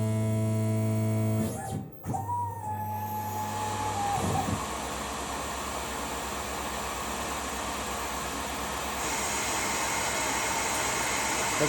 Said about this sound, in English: I'll do a shorter section now with a deeper depth of cut.